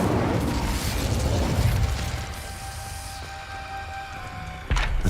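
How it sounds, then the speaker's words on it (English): Incendio fire spell cast in Hogwarts Legacy: a burst of whooshing flame for about two seconds that fades into a hum with a faint tone, then a short thump at the end. "Incendio."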